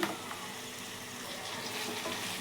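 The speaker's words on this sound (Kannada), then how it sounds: "ಮೂಲಂಗಿನ ಒಂದು ಎರಡು ನಿಮಿಷ ಫ್ರೈ ಮಾಡ್ಕೊಳ್ಳೋಣ" Radish frying in a pan with onion and green chilli, a soft, steady sizzle that stays faint and even throughout, with no talk over it.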